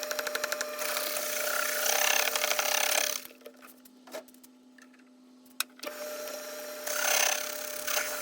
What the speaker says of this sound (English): This lathe is a Craftsman lathe from the 1920s, I think.